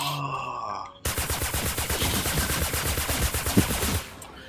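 Gunshots in a video game, a rapid run of loud evenly spaced shots fired in a sustained burst of about three seconds, following a short moment of other game sound.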